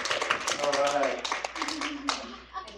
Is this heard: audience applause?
yes